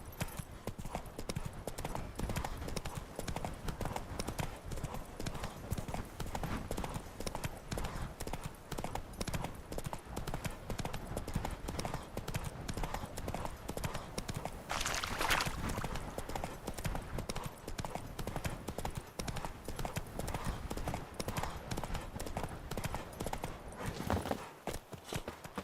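Roach, the horse in The Witcher 3: Wild Hunt, gallops with a fast, continuous clatter of hooves, loud and close, driving steadily under a faint voice.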